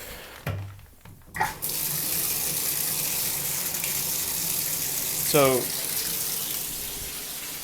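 Cold tap water gushes steadily into a sink for washing denim, a constant close rush broken at the start by a couple of brief handling sounds, with a short spoken word near the end.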